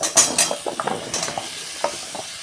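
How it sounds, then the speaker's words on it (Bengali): Brinjal, pumpkin, potato, ridge gourd and broad beans fry in a cooked-down spice masala, with loud scraping stirs and clattering spatula strokes over a bright sizzle. "মশলাটা আমার কষানো হয়ে গেছে, আমি সবজিগুলো দিয়ে দিচ্ছি।"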